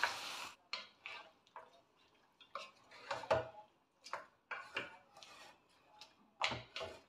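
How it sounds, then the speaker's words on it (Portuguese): A whole rooster sautéing with seasoning in a small pan, heard as quiet, intermittent scrapes, clinks and stirring knocks against the cookware, spaced irregularly with hushes between, and no talk. "Vamos deixar ele refogar bem"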